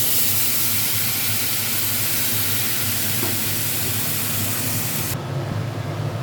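Spice paste for a rui fish curry with whole cumin, dried chilli, cardamom, clove and cinnamon sizzles loudly and steadily in hot oil, a dense close hiss that cuts off abruptly near the end.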